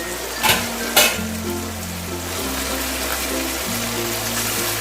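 Chicken fries with melted tomato in a kadhai, giving a steady sizzle under a low background hum, with two brief clatters near the start and no speech.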